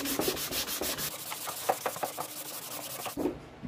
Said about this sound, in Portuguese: a gente simplesmente só vem com a lixa 150 e acerta